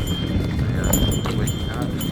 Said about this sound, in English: Donkeys carrying stuff.